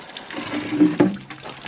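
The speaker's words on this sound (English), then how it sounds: "there's quite a lot of water in there, and it's draining nicely" Water drains from a tank through an open bung, a close, uneven gurgling trickle with a couple of louder splashy glugs, no talking.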